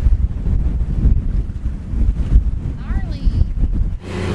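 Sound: wind

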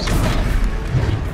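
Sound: Descendo spell impact in Hogwarts Legacy video game

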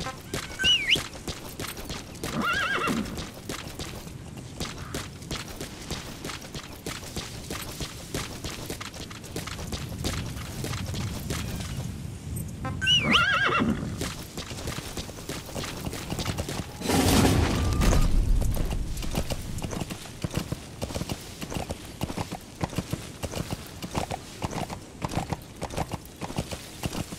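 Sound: horse galloping and neighing in Metal Gear Solid 5 video game

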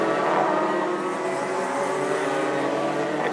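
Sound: Senior Max racing karts on track at Zwartkops Raceway

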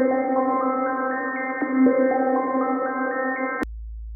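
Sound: synthesizer arpeggio from sequenced filter cutoff

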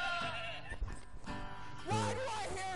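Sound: sheep bleating

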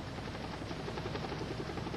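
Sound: Air Life medical helicopter flying

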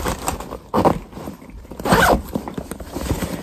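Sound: zipper opening a fishing bag pocket

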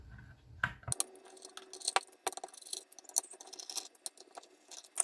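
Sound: unscrewing screws on Apogee Duet back panel

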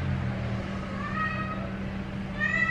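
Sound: cat meowing

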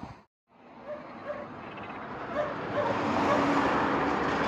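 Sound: dogs barking

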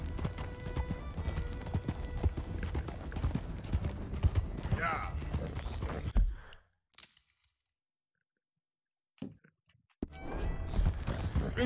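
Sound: horse galloping in Red Dead Redemption 2 video game

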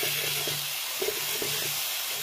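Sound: garlic paste sizzling in hot oil with greens

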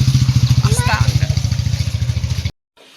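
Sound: motorcycle engine running

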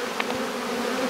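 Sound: swarm of honey bees buzzing

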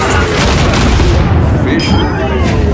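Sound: Junkrat grenade explosion in the video game Overwatch

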